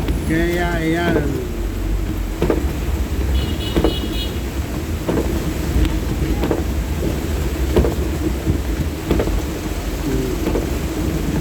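Heavy rain roars steadily and close, with a few brief voices breaking through the downpour.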